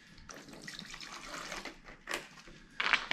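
Water splashes and trickles as it is poured into darker gray paint for a faux concrete finish. The sound is soft and close, with a brighter splash near the end.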